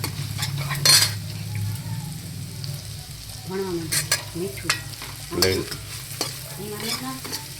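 Chopped onions sizzle in a pan as a spoon stirs and scrapes for onion parathas, with a continuous frying hiss, sharp utensil clanks and a faint voice murmuring in the background.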